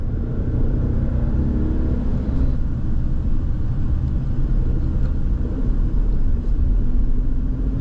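A car winds through tight turns on the Amalfi Coast road near Salerno, its engine and tyre noise a steady, close, low rumble heard from inside the cabin, with no talk.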